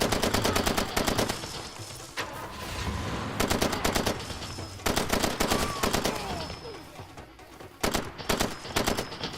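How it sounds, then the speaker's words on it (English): Heavy gunfire in Far Cry 2 comes in repeated rapid bursts of loud automatic shots, separated by brief lulls filled with lower rumbling and echoes. "Hey you, stop shooting at Flora."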